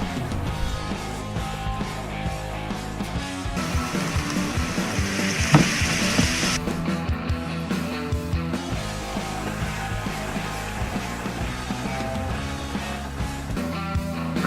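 Molten lava poured into liquid nitrogen in a cheap glass dish, giving a loud, steady frying sizzle with a brief sharp crackle midway, over a continuous background bed throughout.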